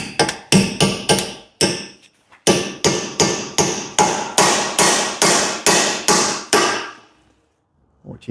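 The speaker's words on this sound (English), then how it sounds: "get that chisel in there" Sharp metallic hammer blows on a chisel driving out the rear axle bushes of an MK7 Ford Fiesta, struck in quick clustered runs of about fifteen hits with brief pauses, loud and close.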